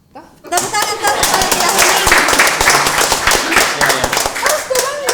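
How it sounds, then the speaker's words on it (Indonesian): A crowd claps hands loudly at a Makassar comedy show, breaking in suddenly after a quiet start into dense, close clapping with sharp individual claps, some laughter and voices mixed in. "Tepuk tangan tuh."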